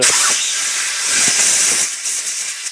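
A sharp, loud hiss of compressed air blasts through a Rover V8 hydraulic tappet tube, a steady close-up jet that holds for over two seconds and then sputters off in short puffs.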